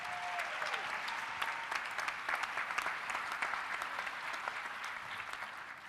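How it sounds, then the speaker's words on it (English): Audience at a prison-reform conference applauding for a speaker named Catherine, a continuous, fairly distant wash of many hands clapping that holds steady for several seconds before easing slightly. "Give Catherine a round of applause."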